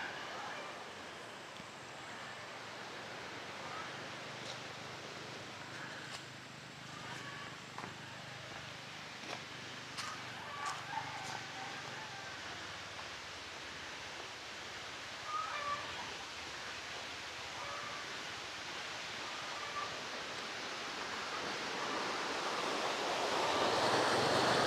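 Pinggo River in Bailen, Cavite, a steady broadband rush of flowing water sustained throughout, moderately loud with occasional faint bird calls and brief handling knocks, growing louder toward the end.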